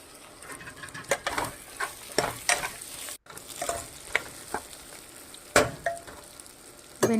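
Okra stirred into hot spice tempering in a pan: spatula scrapes and clinks come in irregular bursts over a soft ongoing sizzle of frying.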